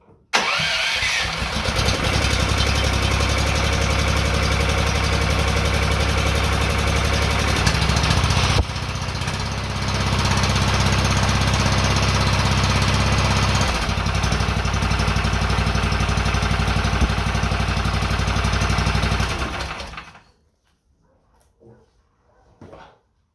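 A Honda GX 15 hp engine swapped into a Bobcat 440B skid steer cranks, catches and runs at a loud, steady idle for about twenty seconds with a brief dip partway through, then cuts off abruptly.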